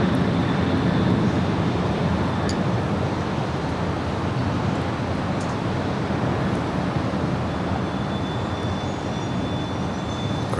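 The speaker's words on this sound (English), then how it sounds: "Queen taking off there on the south side." A Boeing 747 taking off on the south side of LAX: a steady, distant broadband jet roar that holds at an even level throughout, with no voices.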